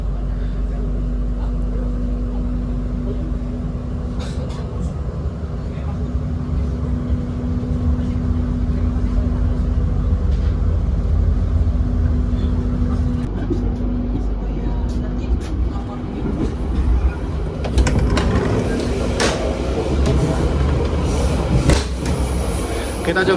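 Sangkuriang passenger train departing the station and running steadily, heard from inside a carriage as a continuous low rumble with a steady hum, growing rougher with clattering bursts toward the end and occasional voices.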